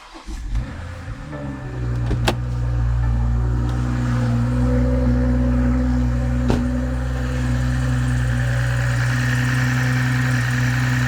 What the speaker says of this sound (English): let's go back into the car, start it up, make sure we have no misfires